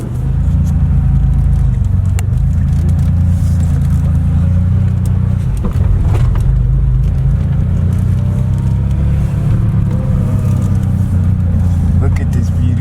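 A 1986 Porsche Carrera engine rumbles loudly and steadily up close at a car meet, a deep continuous drone with people talking over it.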